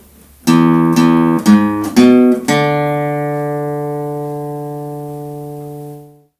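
Slow, plucked guitar notes from a beginner tablature exercise, a handful picked one at a time, with the final note left ringing and fading out cleanly.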